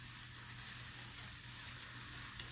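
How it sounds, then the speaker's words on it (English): Food sizzles in a frying pan already coated with butter, a steady, faint hiss that carries on without pause and with no talking. "You're going to hear somewhat of a sizzle, because that, with the butter on it already, you can see it loosens up"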